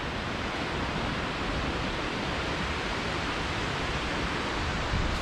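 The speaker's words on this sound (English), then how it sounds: "There's a couple really cool waterfalls. Here's one of them." A waterfall in the New River Gorge roars as a steady, loud, unbroken wash of rushing water, with no voices over it.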